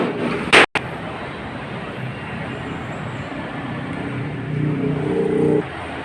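A fleet truck's engine idles and runs with exhaust pushing from its muffler, a steady low rumble that swells slightly toward the end after a sharp brief bang at the start.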